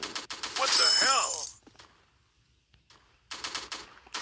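Video game gunfire in a bursty rapid-fire volley, loud and close, with sharp rattling shots and mechanical clatter that stop abruptly, then a short silence before more clicking, shot-like bursts resume.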